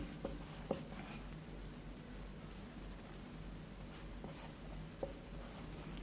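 A marker scratches steadily across a board while a chemical structure is written out for an organic chemistry nomenclature lesson, giving a continuous close rubbing hiss with a few sharper taps under background noise. No one speaks.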